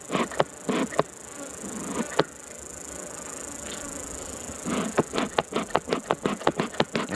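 Honey bees drone and buzz around an open hive during a honey harvest. The buzzing is steady and sits close by, with sharp clicks and knocks tapping through it in irregular bursts.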